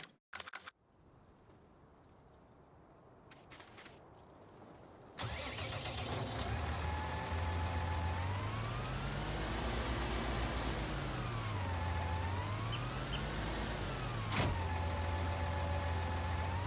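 A 125-horsepower tractor engine in Farming Simulator 19 cranks and starts after a few quiet seconds, then settles into a steady, loud idle with rising and falling revs.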